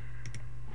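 Two quick clicks of a computer mouse while working in Macromedia Flash 8, close and crisp over a low steady hum.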